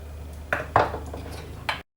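A spatula moving cut-out guitar-shaped cookie dough onto prepared baking trays, giving three short metallic clinks and scrapes against the tray over a faint steady hum, close by.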